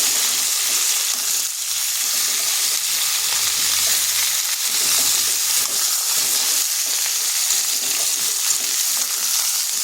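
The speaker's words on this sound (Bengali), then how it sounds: "পেঁপে, গাজর, ডাঁটা, এগুলো সবকে একসাথে মিশিয়ে দিলাম।" Papaya, carrot and drumstick pieces frying in a hot pan for shukto, a loud continuous sizzle with the scrape of stirring running throughout, close and unbroken.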